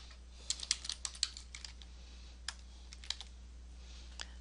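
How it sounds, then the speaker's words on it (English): Computer keyboard keys tapped in short, quiet clusters as a title is entered, faint close clicks separated by brief pauses over a low steady hum. "we'll type our title"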